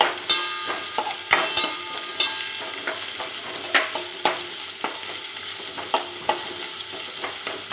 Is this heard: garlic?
yes